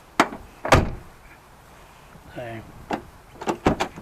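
Driver's door of a Land Rover Discovery 2 with a faulty lock actuator: sharp door thunks and latch clicks, a short motorised whir, then several quick lock clicks near the end, with a brief spoken word.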